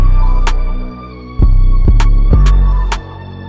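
Bright, short open hi-hat hits tick out over a heavy, throbbing low bass beat. Several hits land at an even rhythm within a loud mix.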